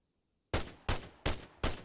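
Four heavy rifle shots in Arma 3, some of them tracer rounds, fire in an even, evenly spaced rhythm after a moment of quiet; each report is loud and close, with a short decaying tail.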